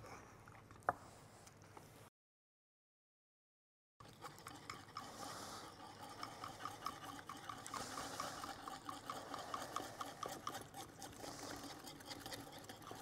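A vinaigrette of shallot, garlic, red wine vinegar and olive oil is whisked or stirred in a bowl, giving a quick, steady run of soft wet clicks and sloshing, faint and close, after a brief gap of silence.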